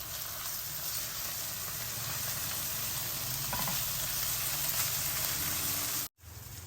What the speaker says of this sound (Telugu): మన ఉల్లిపాయలు అల్లం వెల్లుల్లిపాయ పేస్ట్ మంచిగా వేగిపోతుంది కదా